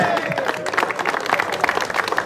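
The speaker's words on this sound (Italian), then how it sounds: "il tifo di Potenza si sente di più" Crowd of Potenza fans cheering and applauding at a mini slalom motorsport event in Amendolara, a dense wash of clapping and cheers with some voices mixed in.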